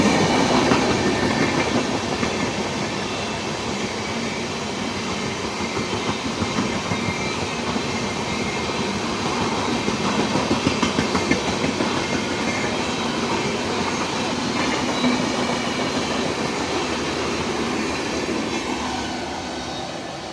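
From inside the 14615 Lalkuan Amritsar Express, a loud, continuous rumble of the moving train carries the rhythmic clickety-clack of wheels over rail joints and faint wheel squeals, with no voices.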